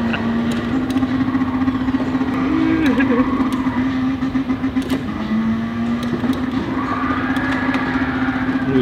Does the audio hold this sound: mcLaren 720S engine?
yes